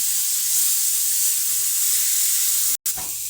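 Cabbage and carrot for Manchurian sizzle and hiss steadily in a hot pan as they are stirred, with a brief scrape near the end and no talk.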